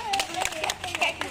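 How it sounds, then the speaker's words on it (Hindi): A group of young children in an outdoor class game clap their hands in a fast, steady patter of sharp claps, with children's voices chattering underneath. "ताली बजाओ"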